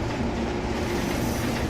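Indian passenger express train rolling along in Train Simulator, a steady dense rumble with faint wheel clatter, continuous and close with no voices.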